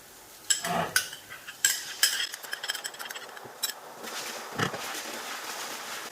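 Ginger garlic paste is stirred into onions frying in a pan for chicken handi, a spoon scraping and clanking against the pot in quick irregular strokes over a faint sizzle.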